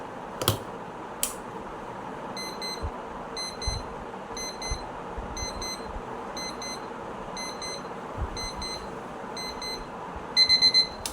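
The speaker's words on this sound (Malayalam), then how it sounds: "കുറേ സൗണ്ട്, ഭയങ്കര വലിയ സൗണ്ടൊക്കെ കൊടുക്കും ഗൈസ് ഈ അലാറം" An alarm clock rings in repeated short bursts of high electronic beeps, evenly spaced about a second apart and growing louder at the end, with a few knocks and handling noises at the start.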